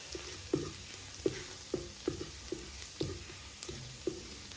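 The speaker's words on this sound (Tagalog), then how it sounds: "Igisa natin ang bawang" Garlic sautéing in a pan for spaghetti sauce, a steady sizzle broken by regular soft scraping and stirring strokes roughly every half second, close and moderately loud with no talking.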